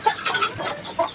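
Hens clucking in a backyard coop, with short bursts of clucks at the start, middle and end, close by and fairly clear over a faint background hiss.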